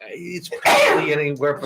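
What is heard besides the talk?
sneeze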